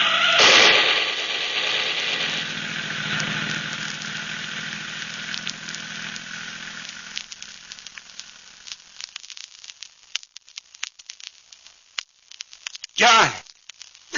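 In a radio drama, a rumbling vehicle roar fades out, then several sharp gunshot cracks ring out irregularly, with one louder burst near the end.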